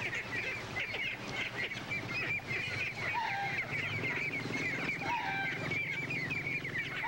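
Ducks calling in Balinese rice fields, their quacks and chatter steady and dense throughout, with several birds fairly close and others further off.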